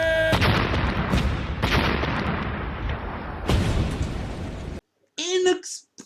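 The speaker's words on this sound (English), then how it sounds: "this giant explosion does no damage to the ship" Giant explosion on a ship in the 1996 action film Bloodfist VIII: Trained to Kill, a loud booming blast with rumbling debris and a second burst, then a brief silence and a short shout afterward.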